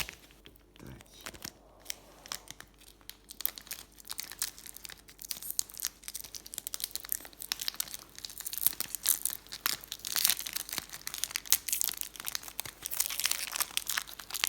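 A large Yu-Gi-Oh OCG booster pack is ripped open by hand, foil crinkling and tearing in dense bursts of crackle that grow busier and louder over several seconds, close up.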